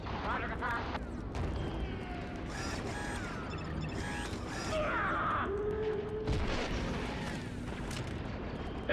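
Heavy artillery in the Star Wars Republic Commando game booms and rumbles under busy battle noise, with mechanical clanks, whines and sweeping tones layered through, and voices speaking over the din.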